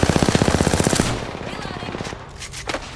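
Rapid automatic gunfire in a battle royale video game, a loud burst of evenly spaced shots lasting about a second, followed by a dense rattling clatter of game effects.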